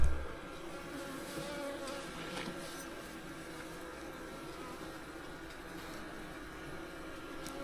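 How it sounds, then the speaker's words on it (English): A steady, dense drone of many honeybees buzzing close by on a hive frame, a continuous low hum with no pauses and no voices. "lots of bees on there"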